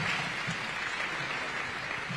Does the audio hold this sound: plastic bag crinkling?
no